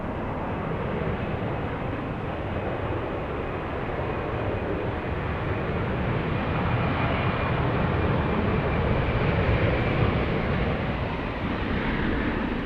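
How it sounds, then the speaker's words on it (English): A Delta Airlines A320 arriving at Atlanta's Hartsfield-Jackson airport, heard as a steady, loud, broadband jet roar that swells slightly and holds for the whole stretch, with no voices. "We have another one. Delta Airlines. A320. Flying in from Denver."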